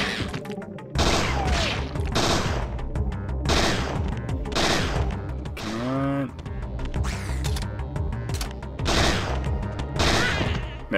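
Gunfire in Parasite Eve 2, repeated loud shots in evenly spaced bursts echoing through the game soundtrack, with a creature cry in the middle and occasional talk.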